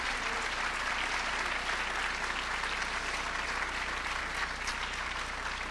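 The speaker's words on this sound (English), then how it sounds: "Another round of applause for Tim for all that he's done for us." Steady audience applause fills a hall at a school music festival, a dense, continuous clapping from a large crowd with no talking over it.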